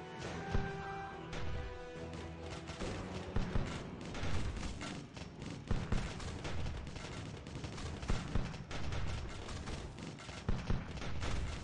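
Automatic cannons in the Steampunk Tower 2 video game fire in rapid, dense volleys. The booming shots keep coming close together and fairly loud for the whole stretch, with no voices.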